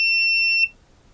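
A GVDA GD166B 600A AC/DC clamp meter sounds its continuity beep while testing a ten-ohm resistance in auto mode, a single steady high electronic tone lasting just over half a second, then cutting off to quiet.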